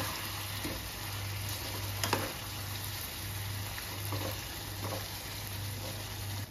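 Chicken rezala curry stirred in a pan, a steady sizzle and frying hiss with occasional soft scraping of the spoon, a low continuous hum underneath.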